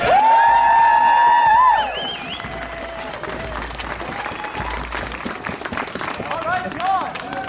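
Crowd at an outdoor Ancient Forest Alliance rally in 2013 at the legislature applauding steadily, a dense wash of clapping with scattered cheers, loud at first then continuing somewhat softer, with a voice over a loudspeaker briefly at the start.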